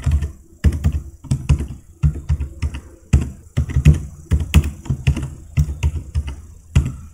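Close, loud typing of a password on a computer keyboard, with irregular clusters of crisp key clicks and short pauses between them.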